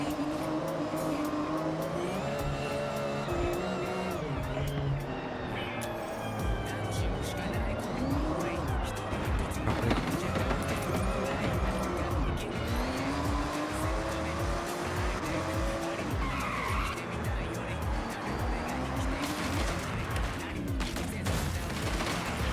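Racing engine in Forza Horizon 6 revs and roars continuously as a car drives and drifts, with rising and falling pitch and bursts of tire squeal throughout.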